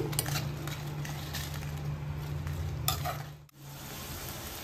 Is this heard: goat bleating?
no